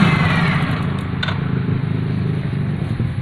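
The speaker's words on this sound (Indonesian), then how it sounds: "ini posisi motor hidup ya." Yamaha Soul GT motorbike engine idling steadily, close and loud throughout with a constant low rumble and mechanical clatter, no voices.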